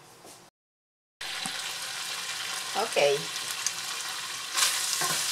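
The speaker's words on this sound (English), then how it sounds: "Sizzling nicely, and the onion is translucent." Pork and onions sizzle steadily in a hot pan, with a brief stirring scrape midway and a short spoken word near the start.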